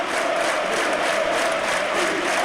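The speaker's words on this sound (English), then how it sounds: "Listen to the crowd." Full-house football crowd at Turf Moor, Burnley, during a Burnley v Wigan Athletic match, a loud continuous roar of cheering and chanting filling the stadium with no break.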